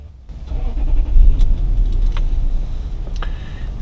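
A Lexus GX470 SUV, high mileage and freshly restored, starts up on a wet, cold day: a brief crank, then a smooth, steady engine idle that stays close and loud, with light clicks over it and no talking.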